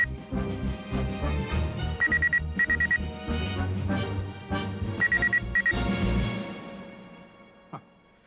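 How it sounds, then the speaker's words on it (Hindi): A telephone rings in a room in two short bursts of trilling pulses, sitting under loud, dense dramatic music during a crime-drama scene. "घंटी तो अभी भी बज रही है। कहीं इस कमरे में कोई और फोन तो नहीं है?"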